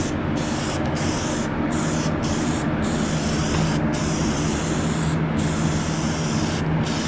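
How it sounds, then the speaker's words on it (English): Aerosol spray paint hisses onto a DIY pistol case in loud, steady bursts broken by several brief pauses, with no talking. "this stuff is heavier than regular aerosol spray paint"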